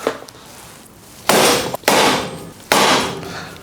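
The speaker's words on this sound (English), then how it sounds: "just hit it down with a hammer and that'll free it up and then you can pull it out." A hammer strikes a seized, corroded bicycle seatpost three times, each a loud sharp metallic clang with a ringing tail, spaced under a second apart, close up and alone.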